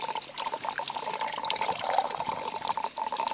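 Water ram pump drawing air through a tube and injecting it into the water, heard as a steady close pouring and trickling flow with gurgling, continuous and fairly loud throughout.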